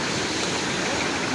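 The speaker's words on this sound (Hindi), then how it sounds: "पानी का शोर सुनाई दे रहा होगा।" A mountain stream rushes along a roadside gully near Gilgit on the Deosai road, a steady, loud, broadband roar of water that stays constant without pause.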